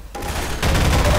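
An automated gun turret in Half-Life 2 opens fire, a loud, dense burst of rapid gunshots that starts after a short lead-in and continues to the end.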